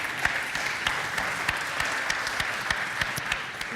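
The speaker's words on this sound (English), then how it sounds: "You can applaud." Panel audience claps in a sustained round of applause, a dense steady patter of hands with some sharper individual claps standing out, no speech over it.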